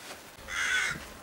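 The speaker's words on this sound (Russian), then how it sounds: "У нас, друзья, море воронья." A single loud crow caw, harsh and raspy, from a large flock of crows, rising briefly out of quiet outdoor ambience.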